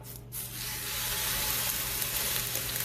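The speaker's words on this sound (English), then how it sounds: "We're just going to put our delicious steak on." A steak laid on a flat griddle heated to about 400 degrees sets off a loud, dense, continuous sizzling hiss that starts almost at once and holds steady throughout, with no talking.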